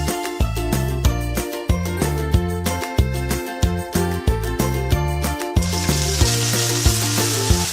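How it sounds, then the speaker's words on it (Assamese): Ginger-garlic paste and onion frying in a pan while being stirred for a chicken fry, with a steady sizzle that grows clearer toward the end beneath loud rhythmic background music. "আদা নহৰু পেষ্টখিনি গোল্ডেন ব্ৰাউন নোহোৱালৈকে লৰাই থাকিম"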